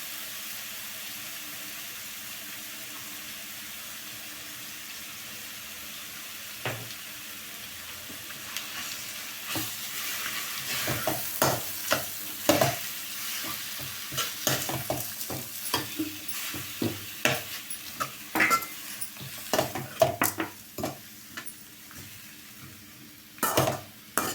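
Mango rice being stirred in a frying pan on low heat, a soft steady sizzle joined by repeated scraping strokes of a spoon against the pan that grow busier and louder partway through, close up with no talking.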